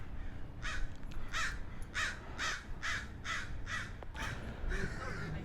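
Several crows caw in a steady series of harsh, evenly spaced calls near a mountain summit in Wudang, moderately loud over a faint background hum with no talking.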